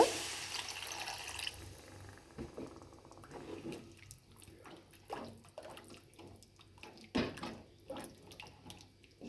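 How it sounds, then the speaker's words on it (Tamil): Water pours and splashes in a steady stream into a metal cooking pot of pea kurma, then gives way to scattered clinks and drips against the pot. "குருமாவுக்கு தேவையான அளவு தண்ணி ஆட் பண்ணிக்கோங்க"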